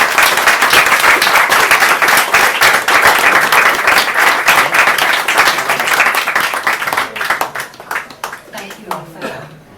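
An audience at a guest poetry reading claps in a dense burst of applause that stays strong for several seconds, then thins out into scattered claps and fades near the end.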